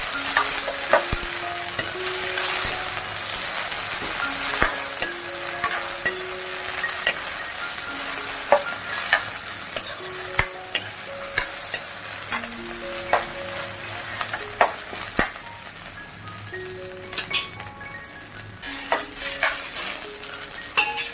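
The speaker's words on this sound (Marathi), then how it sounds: "आणि ही कोथिंबीर ह्याच्यात टाकते मी, पण 2 मिनिटं त्याच्यावरती परतून घ्यायची" Coriander, chillies and garlic hiss and sizzle in hot oil in a pan for a raw mango thecha, a continuous close frying crackle broken by frequent clinks and scrapes of a spatula stirring against the metal.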